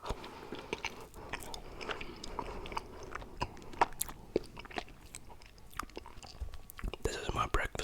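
Close-miked ASMR eating of mochi with a fruit filling such as mango or strawberry: soft wet chewing and biting with occasional crunchy and sticky clicks, continuous and quiet, with faint whispery breath sounds.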